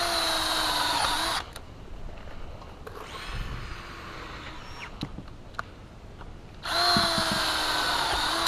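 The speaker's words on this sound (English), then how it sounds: "We roll the rafter and set the screws on this side." A power drill drives screws into a high tunnel rafter: two long steady high-pitched whirs at the start and end, with quieter rustling and brief knocks between them.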